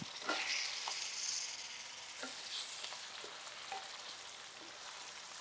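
Pumpkin pieces frying in a pan with ginger-garlic paste for Andhra-style dappalam, a steady crackling sizzle throughout with occasional stirring scrapes, close and moderately loud.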